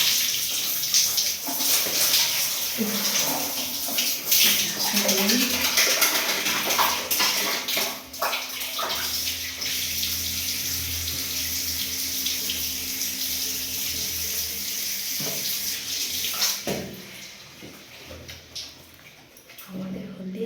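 Water splashes and pours steadily for a cold bath on a hot day, poured from a basin that stood filled overnight, continuous and fairly close, with a voice speaking softly over parts of it.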